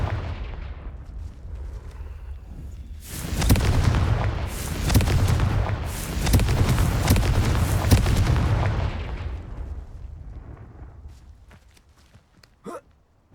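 The Confringo fire spell in the video game Hogwarts Legacy: a burst of loud, booming explosions lasting several seconds, with crackling debris that gradually fades, followed by a brief faint pop.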